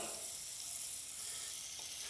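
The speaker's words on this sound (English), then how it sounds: "We're going to use about a teaspoon of butter in our hot skillet. We're sizzling and ready to go." About a teaspoon of butter sizzles steadily in a hot skillet, a soft, even crackling hiss with no voices.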